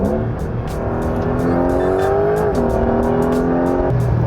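A Porsche 911 GTS hybrid accelerating hard, its engine note rising steadily in pitch and dropping briefly at a gear change before climbing again, loud and continuous from up close inside the car.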